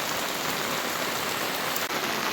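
Steady rain pours down on a rainy day in a village, a dense, close hiss of drops hitting surfaces that continues without a break and with no voices.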